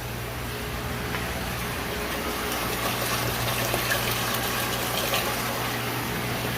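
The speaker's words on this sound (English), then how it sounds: "Yep, we got bubbles and splashiness." Pink nutrient water bubbles and splashes in a grow-room system, a steady wash of noise over a constant low pump hum, close and continuous.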